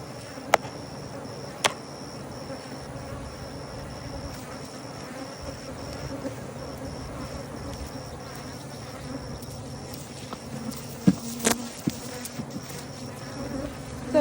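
Honey bees buzz around their hives, a faint, steady drone with a few sharp clicks and knocks of handling nearby, nobody speaking.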